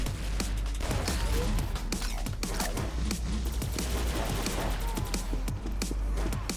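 Rapid bursts of gunfire in the shooter game X-Shot, a dense, constant clatter of shots with impacts and footsteps over a steady low rumble of game sounds.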